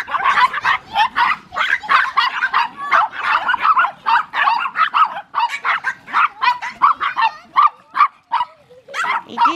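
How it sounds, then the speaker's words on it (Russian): Chihuahua dogs bark close and loud in a rapid, overlapping string of high yips, sharp barks and a few whimpers that continue for several seconds. "противные собачки"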